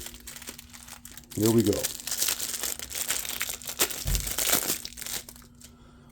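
NFL trading card pack wrappers crinkle and tear up close, a dense rustling that comes in bursts, with someone talking briefly at the start.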